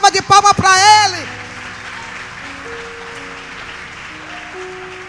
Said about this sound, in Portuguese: Dê uma salva de palmas para Ele.